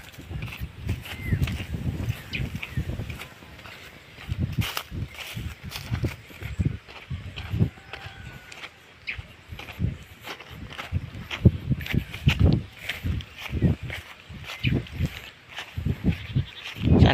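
Heavy hooves of a female water buffalo plod along, with irregular thudding steps and some rustling, close by and fairly loud outdoors on Simara Island.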